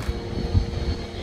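Aircraft engine at Sorocaba airport, a loud rumbling drone with low pulsing throb, close and continuous over a short stretch, no voices.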